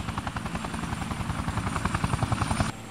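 A police helicopter in the video game Yakuza 4 gives a loud, steady rotor chop with a rhythmic thudding pulse and a whining engine tone, heard alone until it cuts off abruptly near the end.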